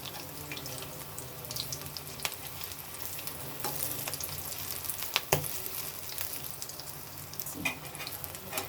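Spicy chops fry in hot oil with a steady, even sizzle and an occasional faint clink of a utensil, close by and continuous, with no talking.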